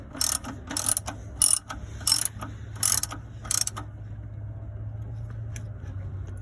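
Socket wrench ratcheting on the oil drain plug of a 2017 Ford F250, six bright clicking bursts in a quick irregular rhythm over a low steady hum, then only the hum remains.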